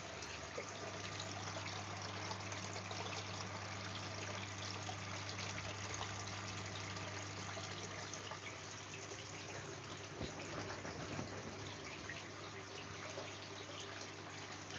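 Water trickles steadily over moss on a small aquarium waterfall, a soft continuous wash with a low steady hum underneath and no voices.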